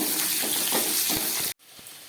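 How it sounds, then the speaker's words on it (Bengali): Chopped vegetables fry in a pan for a light bhetki fish curry, a loud, busy sizzle with spatula scrapes that cuts off abruptly, leaving a quiet background with a soft knock. "সবজিগুলো একটু ভেজে নিলাম"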